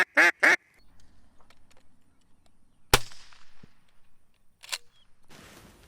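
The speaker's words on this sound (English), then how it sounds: "you always start the test with a duck call" Two sharp honking blasts from a duck call blown to open an HRC hunt test, loud and close, followed by quiet ambience, a sudden clap-like bang and another short burst.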